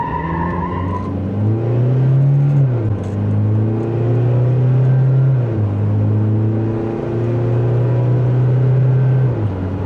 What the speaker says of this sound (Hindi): गाड़ी का 0 to 100 चेक करते हैं